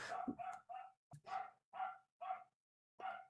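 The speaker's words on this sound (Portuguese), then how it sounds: "Um cachorro desgraçado." A dog barks repeatedly in a short, rhythmic series of sharp yaps, clear and close, heard as game audio from the Deltarune chapter 5 trailer.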